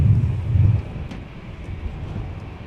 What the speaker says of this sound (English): It's windy. Yes. Extremely windy.